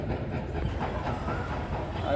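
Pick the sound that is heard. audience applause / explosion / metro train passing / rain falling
metro train passing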